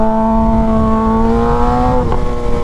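Suzuki GSX-R motorcycle engine running close and loud, a full, steady harmonic drone that dips slightly as the revs shift near the end, with road noise beneath and no talking.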